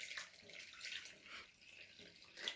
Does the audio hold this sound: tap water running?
yes